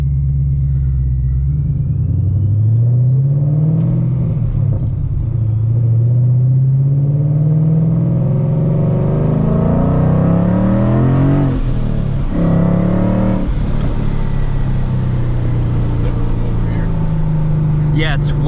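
Supercharged 2016 Ford Mustang GT with manual gearbox and an ESS G3X supercharger on a 120 mm pulley running 8 psi, heard from the cabin as the engine pulls through rising revs and a shift, loud and steady beneath intermittent talk.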